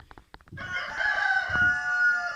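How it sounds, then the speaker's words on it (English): A rooster crows loudly in one long, drawn-out call after a few brief clucks, nearby and clear against a quiet background. "I guess the roosters agree with me there."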